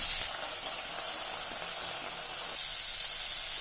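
Curry leaves and chopped small onions sizzle in hot tempering oil for leftover-rice seasoning, a loud, steady hiss of frying that starts with a sharper burst and then settles, with no voices.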